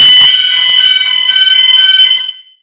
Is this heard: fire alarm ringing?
yes